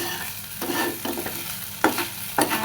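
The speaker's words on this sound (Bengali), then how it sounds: "ঢেঁড়স খুব সুন্দর মতো ভাজা হয়ে গেছে" Okra frying in hot oil, with a spatula stirring and scraping the pan in a few distinct strokes over a constant soft sizzle, close up and with nobody talking.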